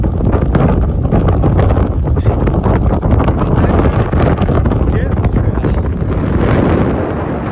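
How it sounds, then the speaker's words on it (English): Heavy wind roars and rumbles against the microphone nonstop on frozen ground at Grayson Highlands on the Appalachian Trail, loud and close, drowning out everything else. "And frozen and windy and cold."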